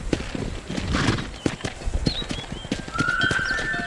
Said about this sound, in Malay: Control that horse, will you?